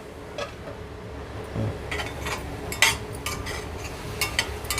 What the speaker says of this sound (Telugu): ఇలాగే కలు కలుపుతూనే ఉండాలి మూత పెడుతున్నాను